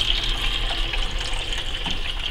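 Water pours steadily from a pump-fed inlet into the top grow bed of a bell-less aquaponic siphon system, a continuous close trickling splash with no voices.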